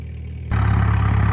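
A farm tractor engine, arriving to pull a baler stuck in the mud in Laos, rises sharply from a quiet background into a loud, steady low-pitched idle that holds without any talk.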